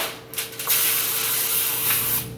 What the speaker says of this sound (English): and spray your sheet pan.